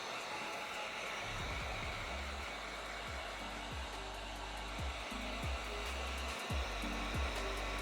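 Heat gun or hair dryer blowing steadily while heating shoe sole shields, a soft continuous airy whoosh with faint shifting low hums underneath, close and quiet, no talking.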